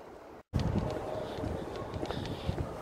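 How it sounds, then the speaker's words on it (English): Outdoor wind buffets a microphone with a rough, gusty rumble that starts after a brief moment of silence and continues unevenly without speech. "It's getting a bit windy now."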